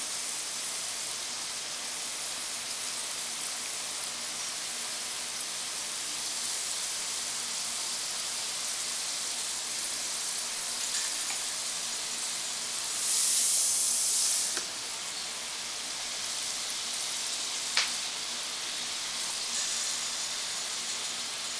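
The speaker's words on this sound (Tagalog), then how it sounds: "Ganyan lang ang pagluto ng french fries." French fries frying in hot oil, a steady, dense sizzling hiss that runs unbroken throughout, with a brief louder surge near the middle and a single faint tap later.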